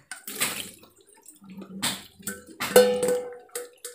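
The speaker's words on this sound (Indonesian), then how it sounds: "saya bilas terakhir pakai air panas ya karena tadi kan cuman pakai air keran nah lalu kita tiriskan" Dates rinsed under hot tap water and then drained, with several bursts of running, splashing water separated by short quiet gaps.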